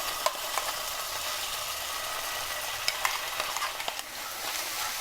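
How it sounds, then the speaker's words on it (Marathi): Masala paste for Maharashtrian stuffed brinjal goes into hot oil in a pan and gets stirred. A steady sizzle runs throughout, with occasional sharp scrapes and clicks of the spoon against the pan. "आता आपण घालूया वाटप."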